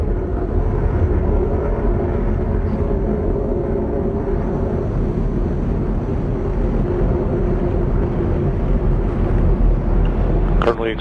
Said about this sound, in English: Booster engine continues to operate well.